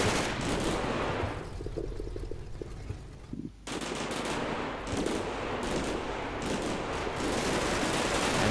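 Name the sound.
gunfire in Combat Mission: Battle for Normandy video game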